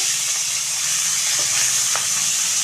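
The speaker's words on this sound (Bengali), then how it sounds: "এক সাইড আমার ভাজা হয়ে গিয়েছে, আর এক সাইড ভেজে নেব, উল্টে নেব।" Rohu fish pieces sizzle and hiss steadily in a hot oiled pan, lightly fried on one side before being turned, with a couple of faint clinks over the constant frying.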